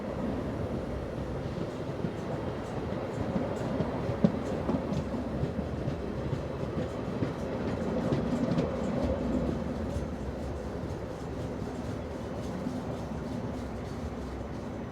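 A French train hauled by BB 17039, a BB 17000 class locomotive with RIO coaching stock, rumbles steadily at moderate level while restarting from a station, with faint wheel clatter over the continuous drone.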